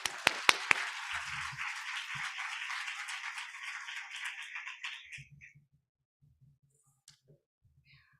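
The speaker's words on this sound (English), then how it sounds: "So let's go ahead and give soon to be Dr. Rosemary Q. Flores a round of applause." A burst of clapping from a crowd at an education pinning ceremony that swells for about five seconds, then stops abruptly, leaving near silence with a few faint taps and low murmurs.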